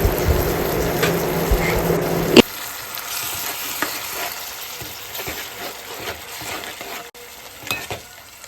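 Tomato paste hits a hot pan with a loud burst of sizzling that quickly drops to quieter crackling and occasional stirring scrapes.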